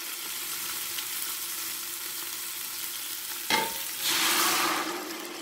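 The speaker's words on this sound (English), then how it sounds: "I'm not gonna be intimidated by this popping and crackling." Steady sizzling and crackling of chicken stock ingredients frying in a pot, with a sudden burst and louder hiss near the end as water goes in.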